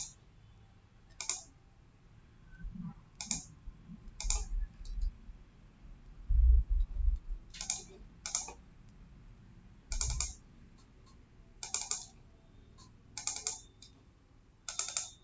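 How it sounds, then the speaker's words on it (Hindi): Computer mouse double-clicks while working in an Excel spreadsheet, heard as sharp, close paired clicks repeating at irregular intervals over a faint background hum with occasional low thumps. "इसको आप डबल क्लिक करते जाओ"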